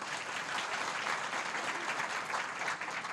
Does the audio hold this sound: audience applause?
yes